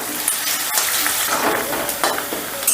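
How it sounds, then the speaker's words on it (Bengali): Chopped onions fry over medium heat in a pan with a dense, continuous close sizzle, while occasional stirring strokes scrape through it. "এবারে গ্যাসের আঁচটা মিডিয়ামে রেখে পেঁয়াজটাকে আমি লাল লাল করে ভেজে নেব"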